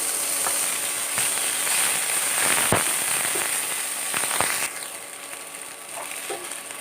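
Ginger garlic paste sizzles in a hot pan, a dense steady hiss with scattered sharp crackles and pops that drops to a quieter sizzle partway through, heard alone with no talking.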